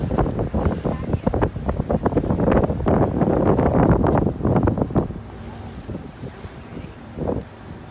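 Boat moving slowly across choppy water in Venice, with wind buffeting the microphone and water slapping close by; loud rough bursts for about five seconds, then quieter steady motor and water noise.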